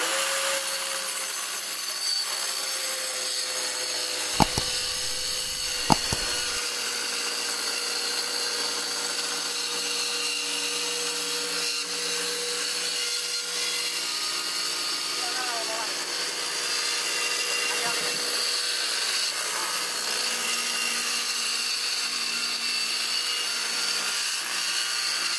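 Black+Decker Multi Evo cordless tool cutting through plywood, a steady rasping saw noise running continuously at moderate level with a few sharp clicks near the start.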